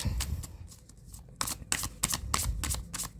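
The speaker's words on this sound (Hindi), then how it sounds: "Last shuffle." Tarot cards are shuffled in quick, crisp bursts of riffling and flicking, close and fairly quiet, with brief pauses between.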